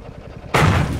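A single loud tank cannon blast in World of Tanks erupts suddenly after a stretch of low engine rumble, its heavy boom sustaining and filling the rest of the moment.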